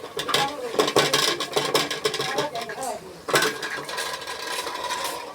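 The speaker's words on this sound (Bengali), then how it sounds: "তারপর আমি আস্তে আস্তে এই যে বুটগুলো ঢেলে দিব" Dry chickpeas are poured slowly into a metal pot, rattling and clattering in dense bursts with a brief pause midway, close and loud, while a person talks over it.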